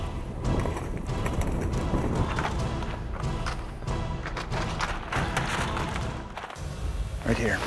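Horses climb a hunting trail, their hooves thumping and clopping unevenly on the ground nearby, with people talking over the steps.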